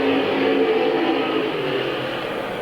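Race cars roar together at Midvale Speedway in 1997, a steady, loud wall of engine noise with no break.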